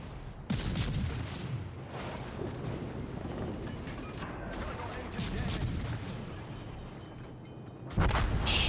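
Warship main battery guns firing in World of Warships Legends, with heavy booming salvos at the start, around the middle and near the end over a constant rumbling battle background, with a voice faintly underneath.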